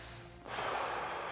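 Forceful, unnatural breath pushed hard out through the nose in Flying Duck Qi Gong, a single loud snorting rush of air after a brief quieter moment, close and alone.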